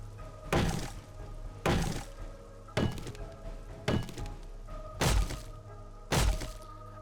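Axe blows land in the 7 Days to Die video game as six heavy, evenly spaced thunks about a second apart, each a dull chopping impact over a steady low background.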